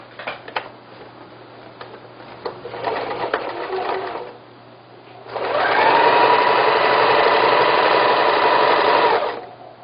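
A sewing machine sews a seam on a cushion, first with handling clicks and short uneven bursts, then a brief pause before a loud, steady mechanical whir runs for several seconds and stops, close up and without talking.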